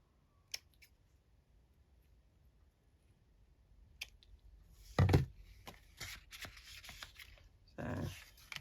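Scissors trim paper for handmade gothic journal pages, with a few quiet, isolated snips and crisp cuts clustered near the end after a mostly hushed stretch.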